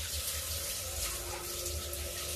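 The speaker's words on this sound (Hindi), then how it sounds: "इसमें थोड़ा सा गर्म पानी डाल देते हैं।" Hot water poured into a pan of mixed vegetables frying for a sabzi makes a steady, close, continuous splashing stream that runs for a couple of seconds without talking.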